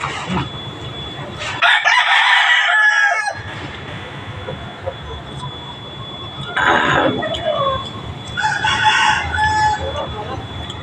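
A rooster crows loudly nearby, followed by two more shorter crows from farther off, over steady outdoor background noise.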